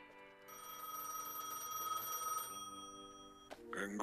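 A telephone rings in a video game after the power comes on, a steady electronic bell trill lasting about two seconds before cutting off, followed by a brief clatter as it is picked up.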